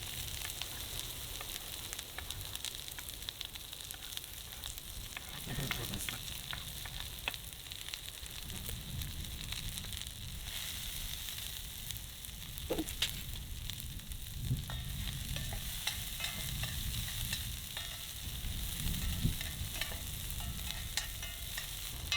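Onions and beef sizzle in a single pan over a campfire, a soft steady frying hiss broken by occasional light stirring scrapes, heard alone without any voices.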